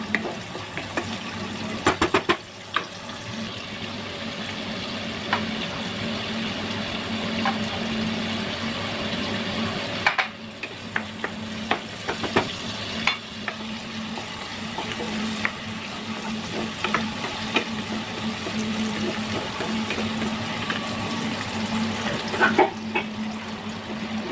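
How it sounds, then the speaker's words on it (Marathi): Chopped onion sizzles steadily in hot oil in a pan while being stirred, with intermittent spoon scrapes over a continuous frying hiss, as part of cooking a Mangalore chicken curry. "कांदा आपल्याला व्यवस्थित तेलामध्ये परतून घ्यायचा आहे"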